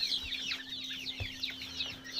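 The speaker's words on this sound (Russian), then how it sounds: "Они здесь кушают, пьют водичку, цыплятки." Young chicks under a lamp powered by a solar panel peep and cluck in rapid chirps while eating and drinking, faint and continuous over a low steady hum.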